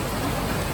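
Steady rain pours down during a rainstorm in Stone Town, Zanzibar, a dense, even hiss with no break across the brief moment.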